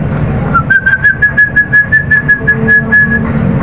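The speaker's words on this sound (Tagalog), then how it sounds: "Yan yung sipol ko para sa inyo" A person whistles a repeated high call to pet lovebirds, a series of short, evenly spaced notes over a steady background hum.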